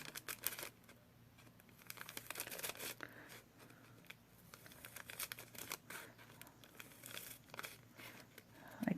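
Scissors cut through a folded piece of tape for nail art, making quiet, close snips and crinkles in an irregular series against a hushed background.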